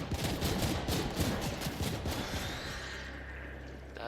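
Rapid gunfire in the sci-fi shooter The Ascent, a loud, dense stream of close-range automatic shots that stops partway through and leaves a fading rumble.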